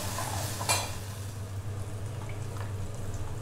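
Onions fry and are stirred in a pan with a little salt, giving a steady close sizzle with a brief scraping clatter of a utensil near the start and a constant low hum underneath.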